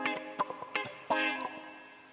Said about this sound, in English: this is our original unaltered impulse response